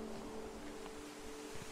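Ocean surf rolls at the seaside in the video game What Remains of Edith Finch, a soft, steady wash of waves under a low, constant hum, heard alone and at a quiet level.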